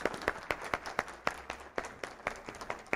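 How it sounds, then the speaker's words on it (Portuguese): An audience at a talk applauding, a sparse, moderately faint round of individual claps at an uneven rhythm. "Então, agradeço pela salva de palmas."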